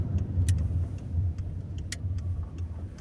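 Manual car engine idling low while the driver downshifts through the gears. A steady, quiet rumble runs underneath, with sharp ticking clicks scattered across it at irregular intervals.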